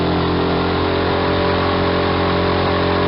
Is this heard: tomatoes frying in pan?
no